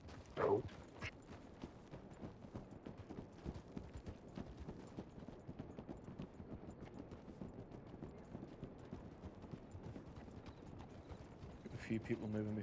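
Steady clip-clop of a single horse's hooves trotting at an even pace in a video game, with faint mechanical clatter and occasional talk layered on top.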